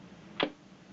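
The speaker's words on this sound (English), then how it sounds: "and that's the auxiliary shutters shutting." Auxiliary shutters closing inside a Hasselblad 500 series medium-format camera: a single short, close mechanical clack with a soft thud, alone against quiet room tone.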